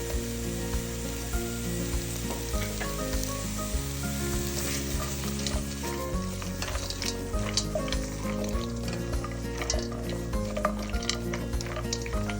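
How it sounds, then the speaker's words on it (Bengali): Chopped onions fry lightly for butter chicken with a lively, constant sizzle and crackle, stirring noises throughout, and background music playing underneath. "দিয়ে দিব কেটে রাখা টুকরো করা পেঁয়াজ এটা আমি একটু হালকা ভেজে নিয়ে"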